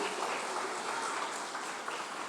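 Church congregation clapping hands together during a sermon, a dense, even wash of many hands at steady volume, somewhat distant in a reverberant hall.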